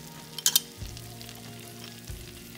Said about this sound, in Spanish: Ya que nuestra mantequilla está derretida, vamos a agregar el ajo.